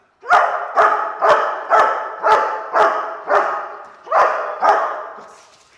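A dog barks nine times in a steady rhythm, loud and close, with a slight pause before the last two barks.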